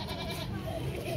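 A mountain goat bleats at a zoo in Trоitskoye, Moscow Oblast, in a short nasal call heard close, with people talking over it.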